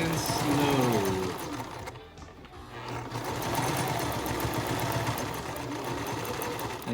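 A sewing machine back stitching a cloth mask runs in a steady close mechanical chatter, pausing briefly partway, then resuming slowly and evenly, with faint talk beneath.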